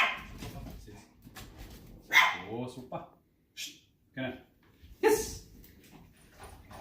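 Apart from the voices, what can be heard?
dog growling over raw food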